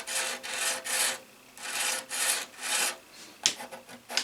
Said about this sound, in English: 120 grit on a little plexi or a Lexan